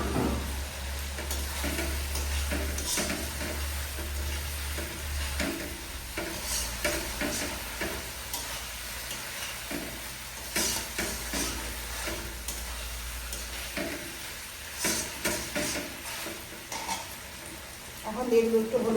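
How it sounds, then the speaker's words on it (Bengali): Potatoes and pointed gourd fry in a pan after mustard and poppy seeds were fried, giving a soft continuous sizzle with intermittent stirring scrapes, close and moderately quiet, while a person talks. "এখন আমরা পটল আলুটা দিয়ে দিচ্ছি ছেড়ে।"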